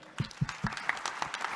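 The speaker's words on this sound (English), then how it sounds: "let's give a big round of applause for Claire McNabb and for Kelly Dolan" Audience at an industry expo opening session applauds, with a few distinct, fairly quiet claps in an uneven rhythm, sparse rather than a full ovation.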